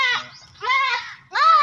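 Goats on a farm bleat three times in quick succession, loud, close and wavering, with brief pauses between calls and no talking.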